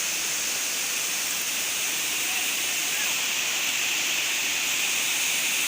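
A continuous roar of falling water from a waterfall at Tad Kon in Xon district, Laos, broad and steady throughout with no pauses, as if heard from close by.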